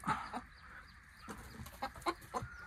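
Chickens cluck in a free-range poultry shed, with several short, soft clucks and calls scattered across a quiet background.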